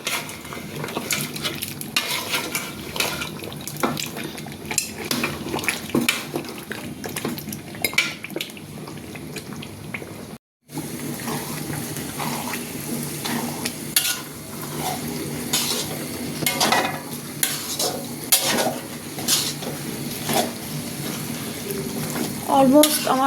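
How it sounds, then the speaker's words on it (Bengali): New local potatoes being stirred and cooked in a pot among other vegetables, with steady scraping and clinking of a utensil against metal, a sizzling bubbling bed underneath, and occasional faint voices. "এখন আমি দেশি নতুন আলুটা দিয়ে দিলাম।"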